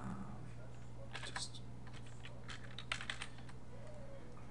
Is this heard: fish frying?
no